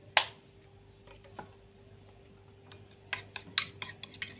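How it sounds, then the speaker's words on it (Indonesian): A spoon stirs a sauce mixture of chili sauce, soy sauce and oyster sauce in a bowl, giving light scattered clinks and scrapes, a sharp tap at the start and a quicker cluster of clinks near the end. "Kita aduk terlebih dahulu supaya rata."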